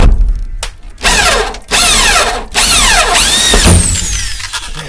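A power drill drives screws in repeated bursts, each rising and falling whine separated by short pauses, loud and close with no talking.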